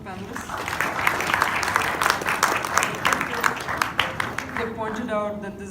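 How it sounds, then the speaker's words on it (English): An audience applauds panelists at a family planning and urban welfare panel in Kigali, Rwanda, with dense steady clapping that fades out near the end. "I think we should give a round of applause to our wonderful panelists."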